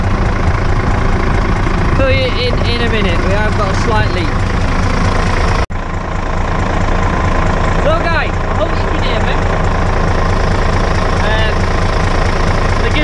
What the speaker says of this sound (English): We're just running now to get a temperature cycle in the engine.